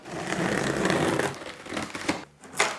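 Cardboard box of an EcoFlow Delta 2 portable power station being unpacked, with close crinkling and scraping of packaging and a few soft knocks.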